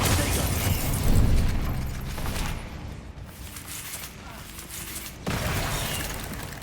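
Bombarda and Confringo spells explode in Hogwarts Legacy combat. A loud burst opens, the noise thins out in the middle, and a second abrupt blast cuts back in near the end, all under a voice speaking.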